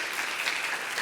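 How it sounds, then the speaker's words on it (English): Audience at a WordCamp conference event in Lithuania applauding a presenter, steady dense clapping throughout the short moment with no voices. "round of applause goes to you"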